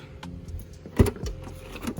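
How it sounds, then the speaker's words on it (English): A car's power liftgate opening, a steady close electric motor whir with a brief clunk as the gate releases, alone without speech. "Nice little power lift gate."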